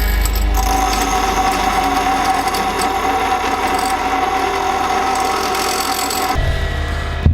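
A grinder runs continuously against metal on a PTO log splitter, producing a steady, loud abrasive whine that cuts off near the end.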